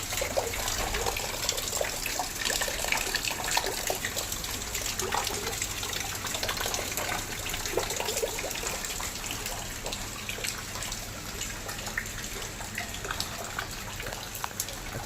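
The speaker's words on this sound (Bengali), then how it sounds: "আর 4:15 সময় দেখুন একবার কীরকমভাবে বৃষ্টি নেমেছে ফাইনালি।" Heavy afternoon rain pouring down in a continuous, dense rush with crisp splattering drops on surfaces, steady and fairly close for the whole stretch, no voices.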